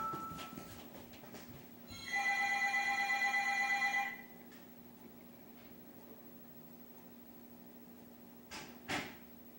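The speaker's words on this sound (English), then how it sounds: "Oh my god, my phone's ringing." A phone rings indoors in a short two-second burst of bright, steady electronic tones, then stops. A few soft knocks and clicks follow in an otherwise quiet room.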